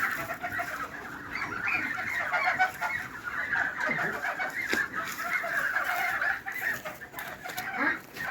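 Large grey geese and mulard ducks call steadily at close range while being fed, a dense chorus of honks and clucks that stays loud for the whole stretch.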